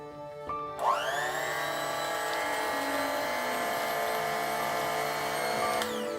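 An electric mixer on its low setting churns butter dough for orange cinnamon rolls in an RV kitchen, its steady motor whine starting after a short click and holding evenly throughout.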